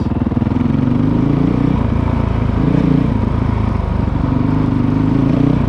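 A Honda CRF450L motorcycle fitted with a Yoshimura RS4 exhaust and an aftermarket ECU runs steadily and loudly close by, its engine note continuous with slight rises as it accelerates, no talking over it.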